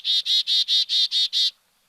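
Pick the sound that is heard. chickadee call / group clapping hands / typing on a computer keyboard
chickadee call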